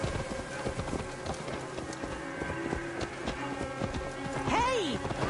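Steady clip-clop of horse hooves on a hard surface in Assassin's Creed Valhalla runs throughout, with game music and a rising tonal effect near the end.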